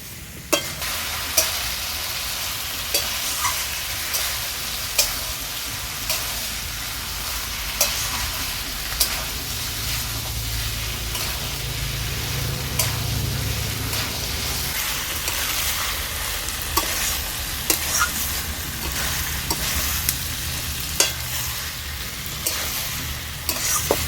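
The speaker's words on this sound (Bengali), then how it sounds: "এঁচোড়টাকে কিন্তু খুব ভালো করে কষাতে হবে।" Jackfruit curry with meat stir-fried in a pan, a steady loud sizzle running throughout with regular spoon scrapes and taps against the pot, no voices.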